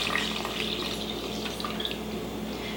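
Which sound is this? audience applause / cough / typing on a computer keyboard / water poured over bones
water poured over bones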